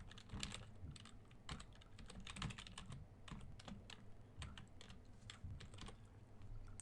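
Rapid, uneven clatter of keys on a computer keyboard while Java code is typed, close and crisp, with short bursts and brief pauses between groups of keystrokes and no talk.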